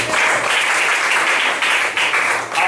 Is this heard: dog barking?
no